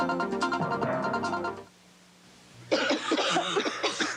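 Harsh coughing fits in a 1985 cough medicine commercial, two bursts of close, loud coughs separated by a brief pause.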